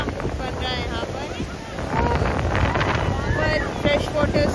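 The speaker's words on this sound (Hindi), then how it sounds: "यहाँ पे ठंडी हवा चल रही है" Cold wind blows in the hills of Himachal, a steady, loud rushing buffet with gusts, alone and without talk.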